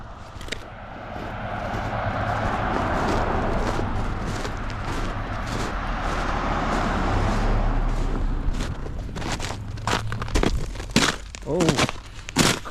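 Footsteps crunch on a sidewalk in an ice-covered town, with sharp crackling steps growing louder and more distinct toward the end over a steady low rumble of wind or traffic.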